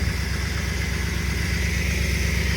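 A 1992 Pontiac Firebird engine with carburetor trouble runs steadily at idle, a loud, close, continuous rumble with a slightly uneven pulse and no talk.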